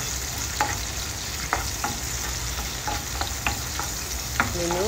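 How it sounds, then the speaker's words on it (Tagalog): Garlic and onions sautéing until brown for menudo, a constant dense sizzle with occasional clicks and scrapes from stirring in the pan. "sinabay ko na yung garlic at saka onions hanggang mag-brown"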